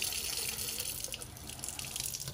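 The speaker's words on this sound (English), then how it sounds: "Water turns on, turns off." Water running steadily from a newly installed faucet into a sink, a constant close hiss and splash with no pauses, alone without talk.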